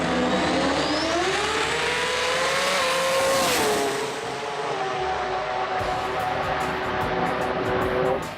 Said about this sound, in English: Jay Sadek was on a mission in the RX3 and took the win.